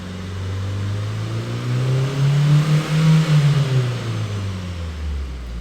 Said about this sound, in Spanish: Vamos a acelerar un poquito